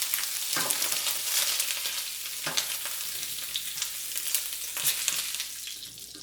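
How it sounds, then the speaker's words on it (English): Andouille sausage sizzles and fries steadily in a pan, a dense close crackle with a few small stirring bumps and no talk. "Try to brown up the sausage on both sides."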